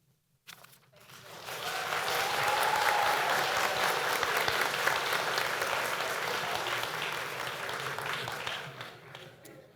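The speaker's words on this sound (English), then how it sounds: "That is literally like the largest applause I think I've heard in an item this far into the meeting" Sustained applause from the audience at a school board meeting just after a motion carries, swelling quickly into a dense, steady wash of many hands clapping that holds for several seconds before tapering off.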